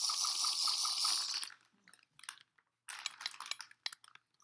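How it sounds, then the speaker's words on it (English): Close crunching of chips being eaten together with rustling of the chip bag, in a loud sustained burst followed by sharper scattered crackles and a pause. "Don't mind the crunching or bagging noises."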